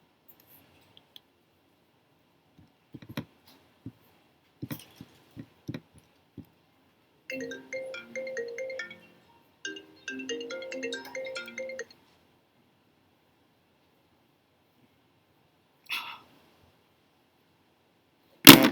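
An incoming call's phone ringtone sounds as two bursts of rapid, chirping electronic notes with a short gap between them. Scattered soft clicks come before and after in an otherwise quiet room.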